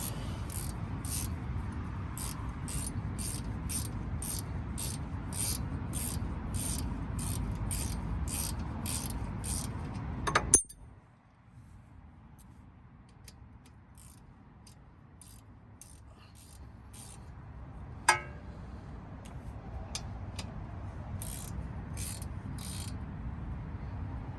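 A ratchet wrench loosens a 12mm bolt on a Honda Civic during axle shaft and seal work, giving about ten seconds of rapid, evenly spaced clicks close by. It then falls quiet, with one more sharp click later.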